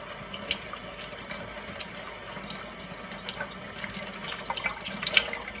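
A whisk is rinsed of cheese sauce under a running kitchen tap, giving a steady, moderate stream of water splashing into the sink with small clinks and splatters near the end.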